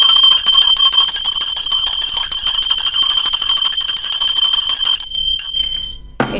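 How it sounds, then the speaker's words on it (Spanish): A bell rings loudly and continuously with a bright, shimmering metallic tone, sustaining for several seconds before cutting off abruptly. "Va campana."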